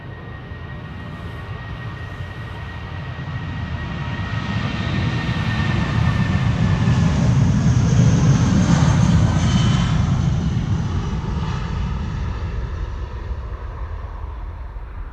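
A 21-year-old airliner taking off at Amsterdam Schiphol Airport gives a loud, steady jet engine roar that swells to a peak and then slowly fades as it climbs away.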